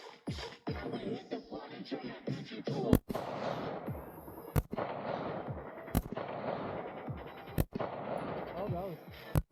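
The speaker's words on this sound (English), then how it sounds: "You're shooting downhill, so you want to aim a little lower than you think." A .22 rifle fires downhill in the mountains, five sharp, loud shots spaced about a second and a half apart, with people talking nearby between them.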